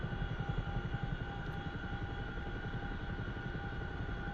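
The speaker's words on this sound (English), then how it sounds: "We are in the Chinook carrying an early warning radar." Steady, loud rotor drone fills a Chinook helicopter cabin in flight while it carries an early warning radar, with a rapid low throbbing pulse under constant engine whine and no talk.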